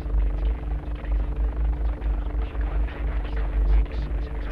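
A helicopter in the military video game ArmA 3 drones steadily nearby with a deep, pulsing rotor thump and a low engine hum, loud and continuous.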